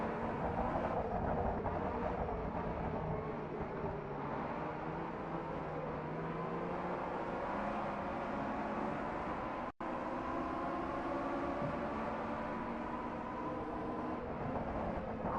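A pack of 1965 Le Mans race cars, Fords leading, accelerates away at the start of the 24-hour race at Circuit de la Sarthe, a dense, continuous roar of many engines with rising and overlapping tones.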